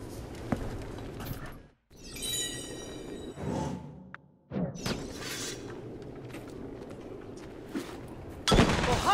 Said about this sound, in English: An explosion of some kind.